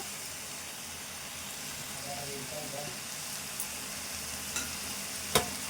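Chicken with green chillies and fresh coriander fries in a pan while being stirred, giving a soft, steady sizzle with occasional faint scrapes and one sharp clink near the end.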